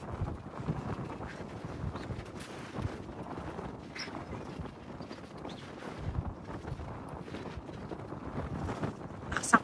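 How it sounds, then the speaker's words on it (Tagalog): Strong wind outdoors at an urban park near a beach, gusting and buffeting the microphone in loud, uneven rushes throughout, with no clear talk. "Lakas ang hangin."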